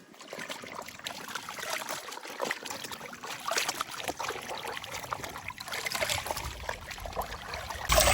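Soft trickling and splashing of cold water as clothes are rinsed by hand outdoors in a Pakistani village, an intermittent gentle sloshing heard close by without talking.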